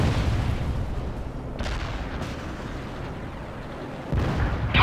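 Tank fire and explosions sound in the World in Conflict modern warfare game, a rumbling wash of distant booms with a sharper burst near the end.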